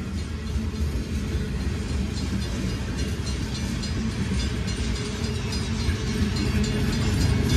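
A CSX freight train, M327, labors uphill in the rain with a deep, continuous diesel rumble and steady rolling rail noise that grows slightly louder as it approaches, with no voices.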